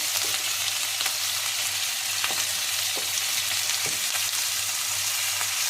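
Chicken pieces frying in a pan after being turned to the other side, for an Arabian chicken kabsa: steady close sizzle with a low hum and occasional soft scraping clicks of stirring.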